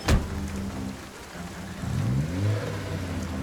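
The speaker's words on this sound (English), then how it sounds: "of course the rain gets even worse" Rain falls steadily in the Project Zomboid video game, a constant broadband hiss heard alone, with a low vehicle engine hum rising in pitch partway through.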